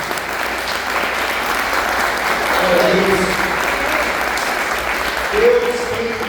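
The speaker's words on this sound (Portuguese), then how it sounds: "Vamos aplaudir Jesus de forte" A church congregation applauds at a service, a steady dense wash of many hands clapping at moderate loudness for several seconds, with voices calling out over it.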